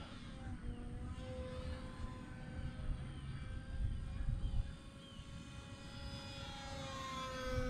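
A small engine on a Hobby King Skipper model airplane drones steadily overhead above a lake, its whine rising and falling as it circles, with wind noise and no talking.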